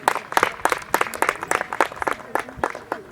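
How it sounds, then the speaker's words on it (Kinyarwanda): An audience applauds at a talent show in Rwanda, a fairly close patter of claps arriving in uneven rhythmic bursts, with no speech over it. "twanamukomera amashyi"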